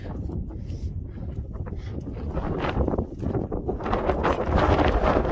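Strong mountain wind blows near Imja Lake while trekkers descend from a summit. It is a loud, continuous buffeting roar against the microphone that grows heavier toward the end.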